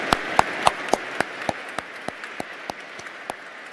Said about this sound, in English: can I ask everybody for another round of applause for them?